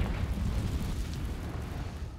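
A Confringo fire spell from Hogwarts Legacy blasts a spider web, a loud, rumbling explosion that rolls on and slowly fades.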